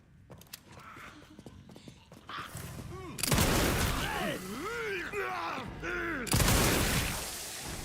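Loud bursts of gunfire ring out in the survival horror game Resident Evil Requiem, two heavy volleys mixed with groaning creatures and scattered footsteps.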